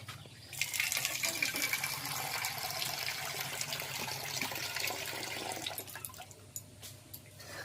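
Freshly picked leaves being washed in water, with steady splashing and running water that goes on throughout, close and fairly loud, with a few clinks near the end.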